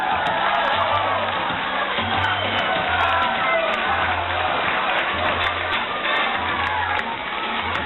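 A crowd cheers and applauds loudly for a finalist at a Polish Wheel of Fortune game show event, a steady dense roar of claps and shouts throughout, with a rhythmic musical pulse underneath.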